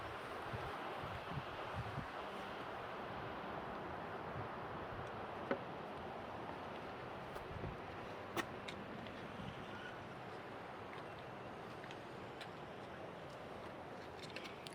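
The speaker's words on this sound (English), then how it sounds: "Can hear the wind blowing at Fairview Point." Steady wind blowing across the open overlook at Fairview Point in Bryce Canyon, a constant broadband rush filling the whole stretch with a few faint ticks and knocks, no voices.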